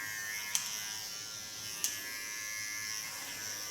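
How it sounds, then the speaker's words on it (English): Electric hair clipper buzzes steadily during a short haircut, a quiet continuous hum with two brief sharp clicks, no talking. "don't lean too hard on the clipper blades because it's not necessary"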